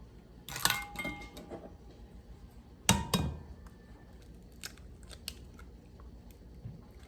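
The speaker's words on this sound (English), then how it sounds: "I am going to add in 2 eggs. So just crack and in." Two eggs cracked against a bowl for a vintage 1950s Hawaiian banana bread, two distinct sharp cracks a couple of seconds apart, close and fairly quiet in a still kitchen, followed by faint small clicks and shell handling.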